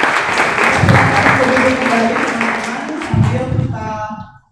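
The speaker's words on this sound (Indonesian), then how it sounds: "kita beri aplaus" An audience at a webinar on religion, ethics and human rights claps steadily for about four seconds, with the applause swelling briefly before fading out, and a voice sits faintly beneath it.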